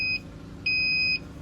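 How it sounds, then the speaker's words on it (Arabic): A home automatic power transfer board's alarm buzzer beeps twice: a short tone, a pause, then a longer steady tone, loud and close with a low hum behind it. "البزر بورد اللي هو جرس الانذار."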